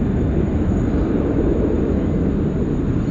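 A Qantas airliner arriving from Manila passes over Sydney Airport, a loud, steady broadband jet roar with an even low rumble sustained throughout, with no voices.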